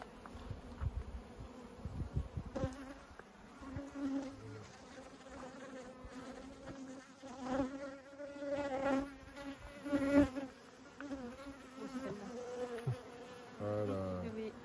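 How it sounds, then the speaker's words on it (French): Bees buzz steadily around an apiary hive, a close, continuous insect drone that swells and fades as they circle, with no voices. "Mis à part le bruit des abeilles qui tournent autour"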